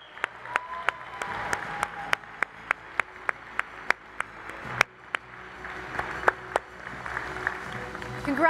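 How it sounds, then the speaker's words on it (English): An audience at a recovery conference claps steadily and warmly, with a few sharper individual claps standing out above the continuous applause. "we're going to clap while you sit down"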